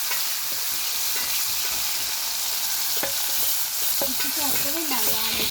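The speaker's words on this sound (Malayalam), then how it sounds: "അത് കൊഞ്ച് ഫ്രൈ ചെയ്ത് അതേ എണ്ണയിലേക്ക് തന്നെ ഞാൻ മസാലക്കുള്ള ഉള്ളി ഇട്ട് കൊടുത്തു" Sliced onions for a prawn biryani masala crackle and sizzle in oil reused from frying prawns, a steady close frying hiss with utensil stirring scrapes and clinks throughout.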